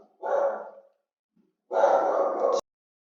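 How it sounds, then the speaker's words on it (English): A pet dog indoors lets out two separate barks, close and fairly loud, with a second of silence between them. "Dog, just doing dog things."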